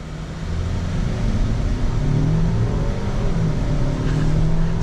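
A VW Tayron R-Line car pulls away hard from a standstill, its engine note rising in a loud, continuous droning roar close to the listener, with no talking.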